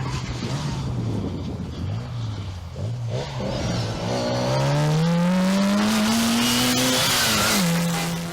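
An Austin Mini Cooper rally car on a historic stage, its engine loud and close, revving and climbing steadily in pitch as it accelerates, with a brief dip and recovery near the end.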